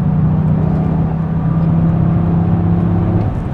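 A Toyota GR Yaris driving on a road, its engine holding a steady droning hum with a low whirring tone that shifts slightly in pitch, heard from inside the car with no talking.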